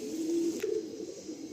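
Pigeons, a Madrasi breed kept by a fancier, give a low, steady coo that runs for under a second and then eases into a softer murmur, heard close up with no talk over it.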